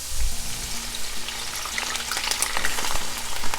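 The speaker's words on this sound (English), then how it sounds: "So let it fry for a few minutes." Cabbage fries in a pot of hot oil with a steady, close crackling sizzle and scattered bright pops throughout.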